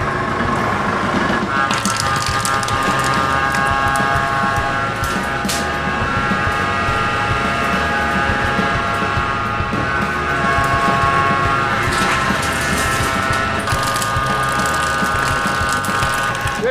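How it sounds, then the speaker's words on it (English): A rubber mixing mill runs with a rubber base between its rolls, giving a continuous mechanical hum with tonal whine and rattling, and intermittent talk over it. "Now I'm going to turn the mill on and we're going to put the rubber base on"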